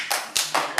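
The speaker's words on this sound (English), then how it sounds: "There will be no applause." At a city council public hearing, a few brief bursts of audience clapping break out, short and close together, then stop.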